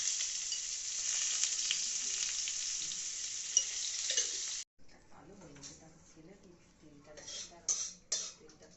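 Pointed gourd (potol) and potatoes frying lightly in a pan make a loud, dense sizzle for several seconds. It then cuts off abruptly, followed by clattering utensils and a voice talking.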